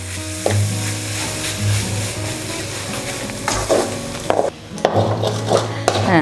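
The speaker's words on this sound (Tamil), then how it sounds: "வறுத்து எடுக்கிறோம்." Gar fish podimas being stir-fried in a pan: a constant sizzle with a spatula scraping and tapping the pan in irregular strokes, close up and loud, with no voices.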